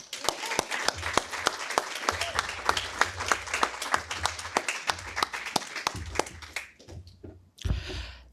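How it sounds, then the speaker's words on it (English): Audience applause at a U.S. Air Force retirement ceremony for a technical sergeant at Lajes Field in the Azores: sustained, fairly loud clapping from a crowd with sharp individual claps standing out, thinning toward the end before a brief final burst. "You can go ahead and give another round of applause to Sergeant Torche's family as well."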